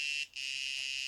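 A micro:bit timer alarm for a hot potato game sounds as a loud, steady high-pitched electronic tone, close by, with one brief break before it resumes.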